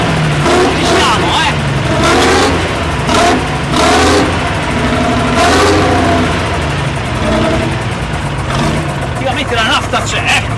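A historic Fiat 626 truck diesel engine revs loudly and repeatedly at a vintage truck gathering in Nepi, throaty bursts rising and falling close by, with voices talking over it.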